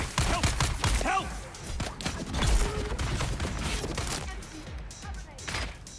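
Gunfire in the video game Dune Awakening comes as rapid, clustered bursts of sharp shots, fairly loud and repeated throughout. A voice talks over parts of it.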